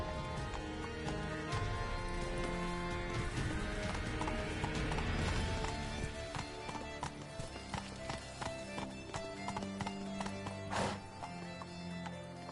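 Horse hooves in Witcher 3: Blood and Wine clop at a quick steady rhythm as the mount gallops, close and loud under a busy game soundscape with music, a brief whinny-like flourish near the end.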